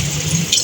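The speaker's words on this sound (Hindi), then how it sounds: "पानी की बहुत जोरदार आवाज़ आ रही है।" Tap water runs steadily into a sink while raw chicken is rinsed, a close, continuous splashing hiss lasting under a second with no voices.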